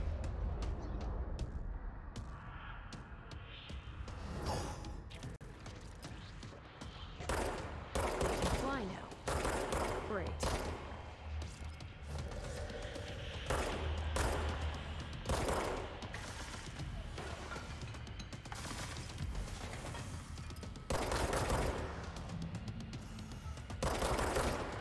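Rapid gunfire bursts erupt in the video game Control, loud automatic fire and booming impacts repeating throughout, with a voice talking briefly over the action.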